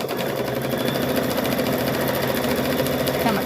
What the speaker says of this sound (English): And we're going to sew across here.